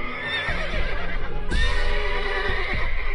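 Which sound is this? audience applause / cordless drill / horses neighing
horses neighing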